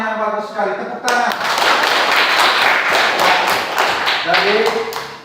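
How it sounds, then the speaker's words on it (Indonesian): A class of pupils in an Indonesian school claps in applause, a burst of dense hand clapping lasting a few seconds, with a teacher's voice before it and speech returning as it fades. "Tepuk tangan."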